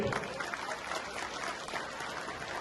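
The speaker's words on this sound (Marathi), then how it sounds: "समोर बसलेले सर्व मान्यवरांसाठी आपल्याला जोरदार टाळ्या वाजवायच्या" An audience at a neighbourhood civic gathering claps steadily, a dense, even patter of many hands heard close and continuous for a few seconds.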